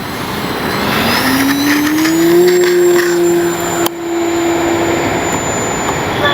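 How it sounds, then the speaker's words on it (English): An E-flite Piper Cherokee RC model airplane flies a speed run, its electric motor whining loudly and steadily with a rising, sustained tone over outdoor wind noise. "we're going to see how fast we can make the Cherokee fly"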